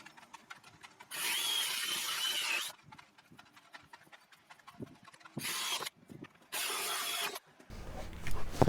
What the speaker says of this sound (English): That's the 2 holes drilled for my anchor bolts, D-rings to secure the bike to.